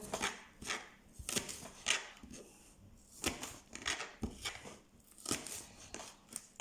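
Knife thinly slicing leeks on a chopping board, a series of crisp, close cuts in an irregular rhythm, with short pauses between strokes.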